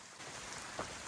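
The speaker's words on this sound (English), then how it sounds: "Still drizzling" Light drizzle falling on a hiking trail along the Appalachian Trail, a soft steady patter of rain on leaves and ground, close and even throughout, with one slightly louder drop splash partway through.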